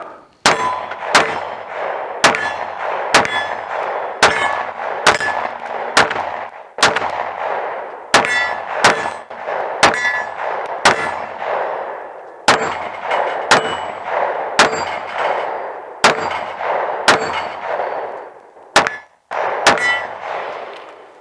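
PTR Archon Type B pistol fired outdoors, a steady string of sharp gunshots about every second, each with a ringing metallic clang of steel targets, loud and close with no talking.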